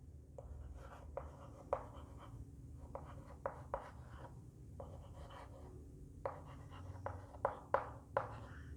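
Chalk or marker writes on a board during a Class 12 biology lecture in a classroom, in quick scratchy strokes arriving in irregular bursts, close and moderately loud, with no talking over it.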